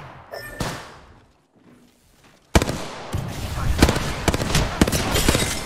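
Video game gunfire erupts as a dense, loud burst of rapid shots and impacts after a quieter stretch, continuing in a sustained barrage with short breaks.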